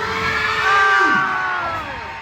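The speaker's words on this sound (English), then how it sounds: "Let's scream. 1, 2, 3, scream!" A crowd of spectators at a NO HATE TOUR action-sports show screams together on a count of three, a loud, sustained burst of yelling and cheering that swells and then slowly fades over about two seconds.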